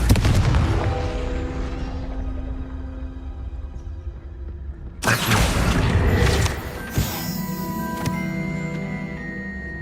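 Deep, booming blasts from Confringo fire spells in Hogwarts Legacy: one heavy explosion rumbles and decays, then a sharp second burst and another crack follow, each trailing into ringing, resonant tails.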